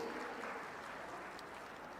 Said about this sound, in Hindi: आप सभी की दमदार तालियां मंच तक पहुंचनी चाहिए।